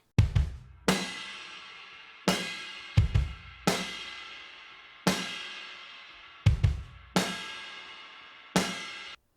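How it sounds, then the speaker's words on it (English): Solo indie pop drum kit playing a steady groove, punchy kick and snare hits with sharp attacks and decaying cymbal wash, loud and close with no other instruments or voices. "So the drums by themselves sound like this."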